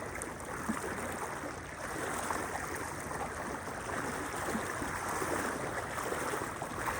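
Continuous rushing flood water surging through a village, a dense, steady wash of turbulent flow that stays fairly even and moderately loud throughout, with no talking.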